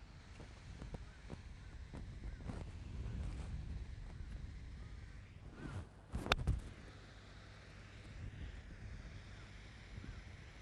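Strong headwind gusting across an outdoor golf practice area, a steady broadband rush of wind buffeting the microphone with a brief louder gust midway.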